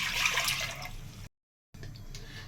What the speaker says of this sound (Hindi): सबसे पहले हम 1 मग पानी डालेंगे।